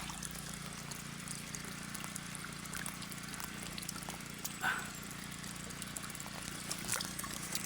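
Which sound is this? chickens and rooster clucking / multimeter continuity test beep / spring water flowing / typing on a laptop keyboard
spring water flowing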